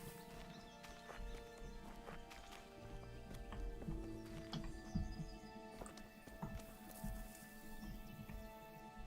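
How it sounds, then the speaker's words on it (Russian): Grazing horses in the medieval game Kingdom Come: Deliverance give soft hoof clip-clops and a whinny over a quiet ambient backdrop with faint tonal music, all low in level. "А чьи-то лошади здесь пасутся?"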